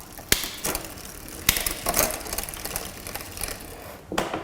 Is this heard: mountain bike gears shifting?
yes